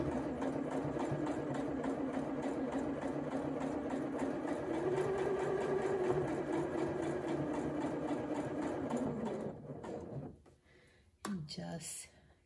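A sewing machine runs steadily while stitching the facing seam of a McCall's 7948 dress, a continuous close mechanical hum for about ten seconds before stopping, followed by a brief quiet burst of handling.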